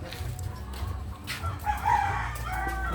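A rooster crows once and chickens cluck softly on a mountain farm amid low background rumble, the crow rising clearly in the middle of the short stretch.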